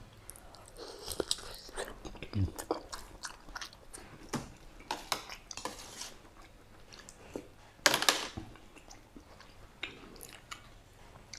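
Crunchy boiled pork leg cooked with chamuang leaves being bitten and chewed close up, a run of sharp crunching bites and moist squishy chews with one especially loud crunch near the middle, no talking.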